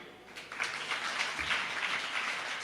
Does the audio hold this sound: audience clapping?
yes